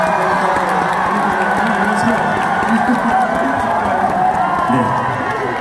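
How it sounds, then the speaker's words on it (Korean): An audience at a Mister Trot 2 concert in Songdo cheers and shouts in a dense, continuous roar, while voices talk over the noise. "여러분들의 함성을 한번 이끌어내보면 어떨까?"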